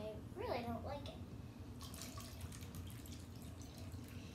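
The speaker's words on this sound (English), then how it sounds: "Now let's pour our water out because this is really ilky water." Water poured out of a small plastic toy container, a quick trickling splash with drips early on, then a faint running-water hiss, heard under a nearby voice talking.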